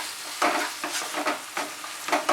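Egg bhurji with green chillies and salt being stirred in a pan, a spoon scraping in several distinct strokes over a light sizzle, close and clear with no voices.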